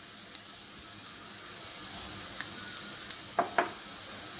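Mustard seeds and urad dal lentils sizzle in hot oil for a South Indian chutney tempering, a steady fizzing hiss with a few sharp crackles and pops near the end, no talk.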